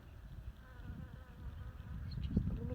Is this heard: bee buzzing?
yes